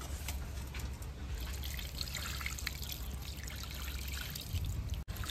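Raw chicken is washed in water, giving a continuous, close trickle and splash that holds at a fairly even level with no talking.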